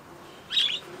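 A pet budgerigar on a home balcony gives a single short, bright chirp, fairly close, over a quiet background.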